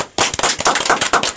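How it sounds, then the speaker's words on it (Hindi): A studio audience bursts into dense, sustained applause for a contestant at a radio antakshari final, with loud, rapid clapping filling the whole stretch after a brief silent start. "एक बार ताली हो जाए"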